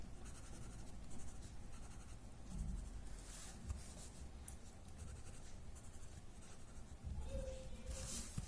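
Graphite pencil shades on paper in soft, close, repeated scratchy strokes, quiet and continuous with a few slightly firmer passes.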